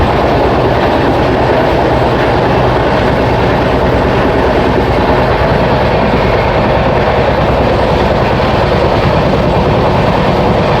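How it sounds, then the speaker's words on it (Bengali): Chambal Express running at high speed, a loud, continuous rumble with rapid rhythmic clatter of wheels on rails heard from inside the train, no voices. "ট্রেন লাগাতার 130 কিলোমিটার/আওয়ার স্পিডে ছুটে চলেছে"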